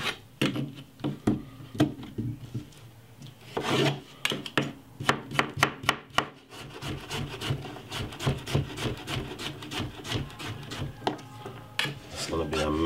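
A knife chops cucumber for a salad on a wooden board, a run of crisp repeated taps in uneven bursts with scraping between them, close and clear.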